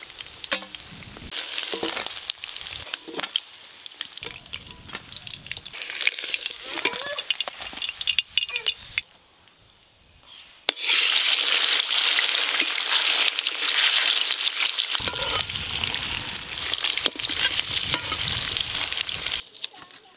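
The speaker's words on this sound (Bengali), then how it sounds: "পাঙাশ মাছ থেকে অনেক তেল বেরিয়েছে আর বেশ ভালো করে ভাজাও হয়ে গেল মাছগুলো" Pieces of pangas fish frying in the oil rendered from the fish itself, a steady loud sizzle that drops briefly near the middle then returns dense and crackling, with a voice talking over parts of it.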